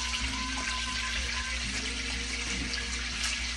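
Applewood bacon frying in a pan gives a steady, soft sizzle and crackle with a constant low hum underneath, heard alone and at a fairly quiet level.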